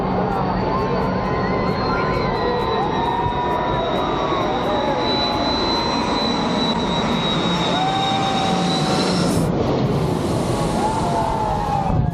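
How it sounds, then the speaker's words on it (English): A jet airplane roars low overhead on approach at a St. Maarten beach, its loud engine whine sweeping across the sky over a steady wash of surf and crowd noise. "airplanes fly dangerously close to the people who stand on the beach and watch them"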